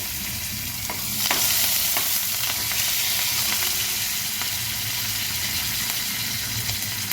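Mustard seeds, cumin and four or five curry leaves sizzling in hot oil in a pan, a steady loud frying hiss throughout with a few scattered pops and crackles, close up, no talking.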